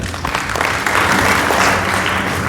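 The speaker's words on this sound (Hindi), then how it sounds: "एक बार जोरदार तालियां।" Seminar audience breaks into loud, sustained applause, a thick continuous clatter of many hands swelling after the first moment and holding steady to the end.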